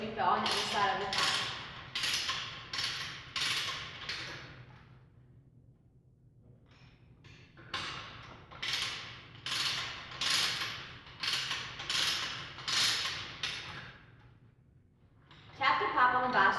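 A metal pipe being deburred on the inside, heard as repeated rhythmic scraping strokes in bursts with a pause in the middle, close and fairly loud.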